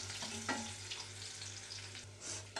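Sliced onions frying in a pan for a Nellore-style dal soup, a steady soft sizzle with occasional stirring clatter, held low and continuous throughout.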